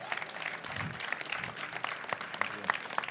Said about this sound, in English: Give Avid a round of applause.